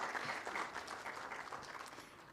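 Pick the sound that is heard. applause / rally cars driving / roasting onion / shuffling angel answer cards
applause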